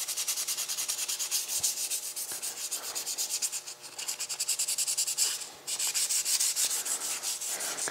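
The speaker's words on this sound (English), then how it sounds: "And now we're just blocking out the urethane primer." Rhythmic back-and-forth scraping of a sanding block over urethane 2K primer on the body of a custom AWD 1951 shoebox car, steady close strokes with brief pauses, no voices.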